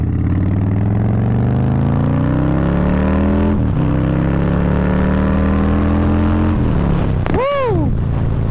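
A 2025 Harley-Davidson Breakout V-twin revs up in long climbing sweeps, holding high before dropping back, then snaps through a sharp blip near the end; loud and close throughout with no talking.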